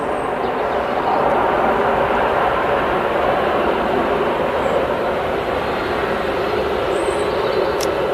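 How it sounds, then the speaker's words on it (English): A Ryanair Boeing 737 taxis back to stand at Manchester Airport, its engines giving a loud, steady, continuous roar throughout with no variation or talking. "the Ryanair 737 that's taxiing back to stand"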